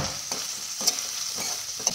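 Asafoetida dropped into hot oil over onions in a wok, a soft, steady frying hiss with a few light clicks of a spoon, fairly quiet and without speech.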